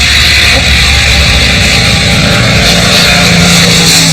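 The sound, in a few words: Supermarine Spitfire aircraft engine flying low overhead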